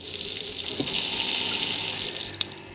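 A rainwater tank pump cutting in, heard as a steady, loud broadband rush of water flowing from a connected tap, continuous with a couple of brief knocks and no talk.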